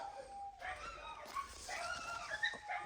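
Several dogs bark, yip and whimper in a noisy overlapping chorus, somewhat distant, continuing throughout.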